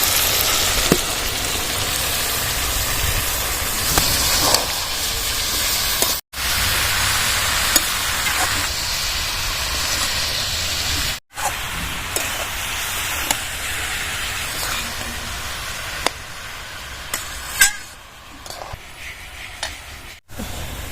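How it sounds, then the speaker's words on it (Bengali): Boiled cabbage goes into a hot pan of fried spices and sizzles loudly and continuously, with scraping and stirring noises throughout and a few abrupt breaks in the sound. "এবার সেদ্ধ করা বাঁধাকপিগুলো ঢেলে দেবো"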